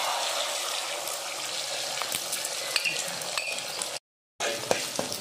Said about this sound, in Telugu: 2 ఎగ్స్ని మనం ఇట్లా బీట్ చేసుకొని అవుతున్న ఆయిల్లోకి వేద్దాము